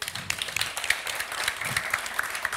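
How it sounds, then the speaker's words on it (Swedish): A Swedish audience applauds as six young people and three panel guests are welcomed onstage, a steady patter of many hands clapping at moderate level with scattered sharper claps standing out, and no talking over it. "Ge dem en applåd"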